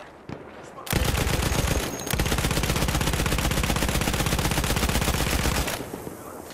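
Old World War I rifles and machine guns fire in Battlefield 1, a loud, rapid, continuous stream of shots that runs for several seconds before cutting off.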